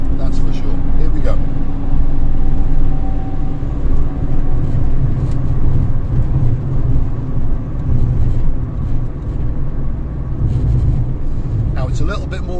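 A manual car is driven through Paphos, Cyprus, with a continuous low engine and road rumble from inside the cabin, steady in level with no speech.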